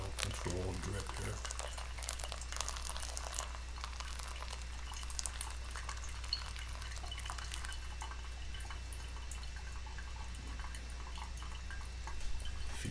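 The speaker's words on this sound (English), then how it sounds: "And just slowly add water with a real controlled drip here." Water drips slowly onto ground coffee in a pour-over filter, giving a faint, steady trickle and soft bubbling close by through quiet low hum.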